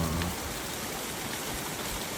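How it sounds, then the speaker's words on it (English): A river flowing beneath a mountain road bridge, a steady broadband rush of water heard from nearby, constant throughout with no voices. "then you can stop and have a look at the beautiful river"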